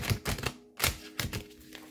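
Tarot cards being shuffled by hand, several quick riffling bursts separated by brief pauses, close and moderately loud, with no talking.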